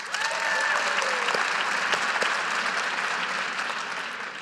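An audience at a business keynote talk in Edmonton, Canada breaks into dense, sustained clapping that fills the room at an even level for several seconds before tapering slightly, with no voices.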